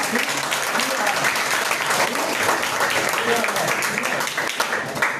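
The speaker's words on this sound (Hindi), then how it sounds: "तालियां इनके लिए।" Students at a school awareness session applaud a classmate, a steady, dense patter of many hands clapping throughout, moderately loud, with voices murmuring underneath.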